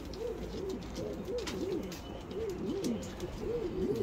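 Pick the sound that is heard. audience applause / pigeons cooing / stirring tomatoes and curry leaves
pigeons cooing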